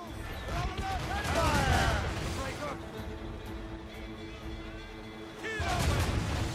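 Broadside cannon fire booms from sailing warships battling British vessels at sea in Assassin's Creed Rogue, heavy rumbling blasts rolling over several seconds with a fresh loud volley near the end, voices shouting amid it.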